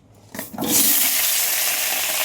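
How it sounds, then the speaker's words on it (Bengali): Potatoes drop into hot oil in a wok and burst into a loud, steady sizzle after a brief rattle of handling, the frying hiss filling the rest. "কড়াই তেল দিয়ে দিয়েছি, আলুগুলোকে ভেজে নেবো"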